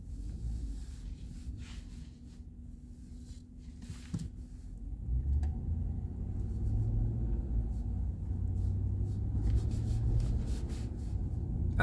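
A car engine rumbles low and steady while driving, heard from inside the cabin with road noise building slightly partway through and scattered faint clicks on top.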